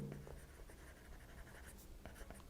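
Faint handwriting scratches along a surface as a note about a polynomial-time reduction is written out. A few soft, irregular strokes sit over a low background rumble, quiet and close, with no speech.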